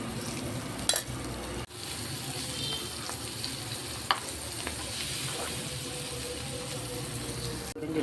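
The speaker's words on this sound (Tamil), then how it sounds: "இப்போ நான் பன்னீரை ஒன்று ஃப்ரை பண்ணி எடுத்துக்கிறேன்." Paneer cubes frying in ghee in a home kitchen pan give a steady, close sizzle with a few brief stirring clicks and spoon scrapes throughout.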